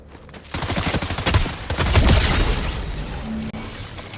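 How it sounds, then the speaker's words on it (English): Rapid bursts of gunfire crackle loud and close, a dense fusillade of overlapping shots with sharp cracks, continuing for several seconds. "What in the world are you shooting at?"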